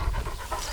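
A Kangal dog panting in quick, rhythmic breaths close up, a short burst of heavy breathing heard alone.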